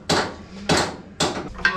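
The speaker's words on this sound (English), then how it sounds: "Do you want a hammer?" Hammer blows during race car engine installation work, three heavy strikes about half a second apart plus a lighter fourth, each sharp impact ringing briefly, close and loud with no talk.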